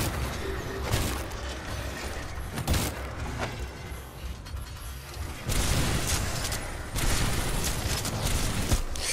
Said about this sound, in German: Ah, der explodiert schon wieder.